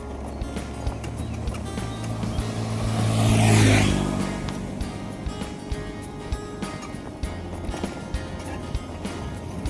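A city bus approaches and passes close by, its engine rumble swelling to a peak and then fading, amid steady street noise with scattered clicks.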